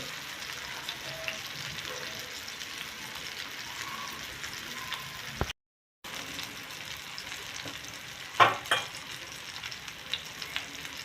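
Pieces of surmai (kingfish) shallow-frying in a pan for a masala crispy fish fry, a steady low sizzle with a brief silent gap and a few sharper crackles near the end.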